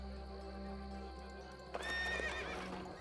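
A horse in the Empire Earth strategy game gives one loud, rising whinny partway through, heard over a low steady game soundtrack with faint hoof clip-clop.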